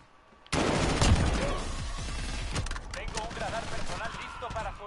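Rapid gunfire from the video game Call of Duty bursts in suddenly and stays loud, dense overlapping shots and fusillades filling the clip with a few distinct cracks.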